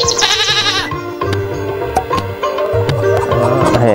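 A cartoon goat bleats in wavering, tuneful calls with a brief high opening cry, set among bright musical tones and repeated cartoon effects in a busy, loud scene.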